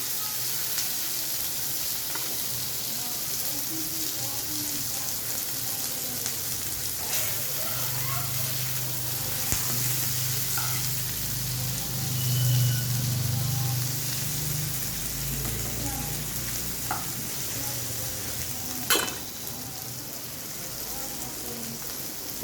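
Onions and potatoes fry in a pan with a steady, continuous sizzle, and occasional soft clicks of stirring are heard throughout.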